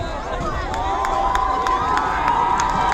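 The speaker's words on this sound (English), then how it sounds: "Crowd's getting loud." A high school varsity football crowd cheers and shouts loudly and steadily late in the fourth quarter, a dense roar of many voices with young shouting mixed in.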